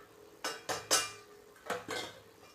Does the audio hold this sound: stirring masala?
yes